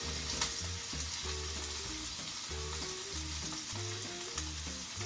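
Food frying in a pan that has reached high heat: a loud, continuous sizzle with no talking, and a bright crackle running throughout.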